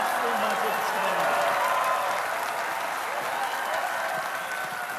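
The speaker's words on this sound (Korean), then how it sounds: "입장하는 선수들 다시 한번 뜨거운 박수로 맞이해주시기 바랍니다." Audience applause greeting dance contestants as they enter at the KDF Korea Dance Sport championship, a dense, steady wash of clapping from a large crowd that holds for the whole stretch.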